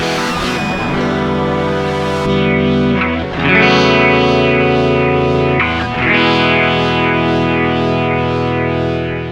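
A hex fuzz guitar synth patch from a Roland GR-100 or Spicetone 6Appeal plays sustained, heavily distorted polyphonic chords with chorus-like swirl and echo. Two or three chords are struck in turn, loud and alone.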